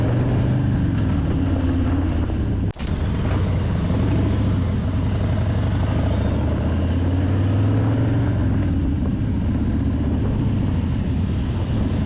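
A Harley-Davidson Heritage Softail motorcycle engine while riding: a steady, deep rumble with wind rush that continues throughout, broken by one very brief dropout early on. No one talks.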